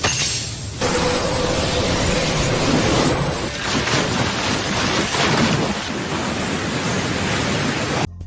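Heavy rain and thunder in a Naruto anime fight scene, a loud continuous downpour roar with deep rumbling thunder swells and rolling crashes, no voices.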